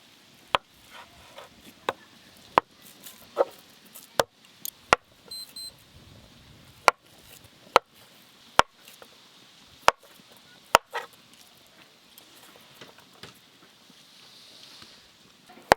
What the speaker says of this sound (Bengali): এবার পনিরগুলো পিস পিস করে কেটে নেব।